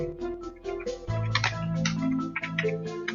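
Quick keystrokes on a computer keyboard, typed into MATLAB, tap out in a steady close-up patter; a low hum and tonal bands sit underneath.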